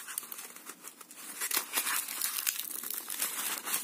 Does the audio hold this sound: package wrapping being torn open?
yes